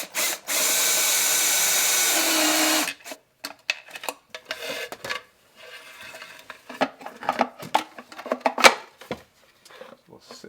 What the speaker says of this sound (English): we'll have to drill a hole for that to poke through with the grommet